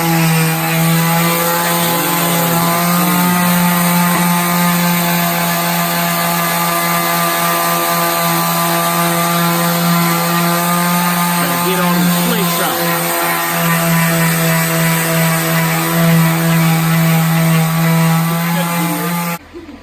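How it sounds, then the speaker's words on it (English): An electric sander from Harbor Freight works over car paint during a spray-can paint job. Its loud, close motor drones with a steady pitch for about twenty seconds, then cuts off at the end. "go to good old Harbor Freight and get you an electric sander"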